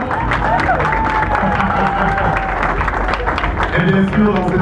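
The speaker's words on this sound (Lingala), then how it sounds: "On les acclame très fort." Wedding guests applauding and cheering for the newly married couple, a dense, continuous wash of clapping and excited crowd voices that stays loud throughout.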